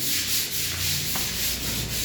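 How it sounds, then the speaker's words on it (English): Sanding a wall by hand before final painting, a steady rhythmic abrasive rubbing with regular back-and-forth strokes, close and fairly loud, with no voices. "So guys, this is wall sanding"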